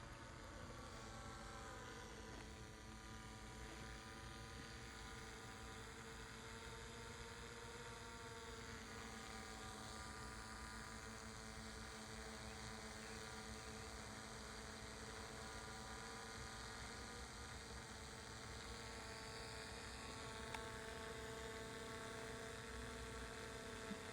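A newly built Developer Air XE drone flying, a steady, quiet motor hum with whining tonal layers that holds evenly throughout at low volume with no talking.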